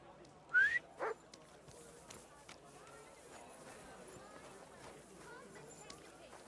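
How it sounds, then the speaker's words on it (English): A dog barks twice in Kingdom Come: Deliverance 2, with two quick, fairly close barks rising above a quiet, steady game ambience with soft background sounds. "Get out of here, mutt. No one wants to hear your barking."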